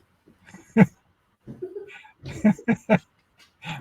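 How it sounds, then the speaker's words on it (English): A few sharp, close dog barks in short bursts, with brief gaps between them and a quieter, softer vocal sound in between. "just hold on, my dog is barking"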